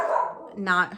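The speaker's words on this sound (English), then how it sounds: "Excuse my dogs." Dogs bark indoors, one sharp close bark rising out of a muffled yelp or whine, with talk in the background at the start.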